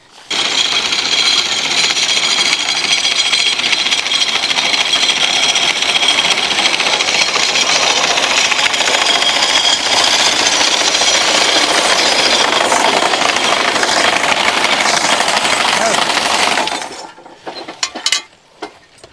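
A hay mower pulled by draft horses runs steadily through a hayfield, giving off a loud, continuous mechanical chatter with a rattling clack for about seventeen seconds before cutting out abruptly, followed by a few faint knocks.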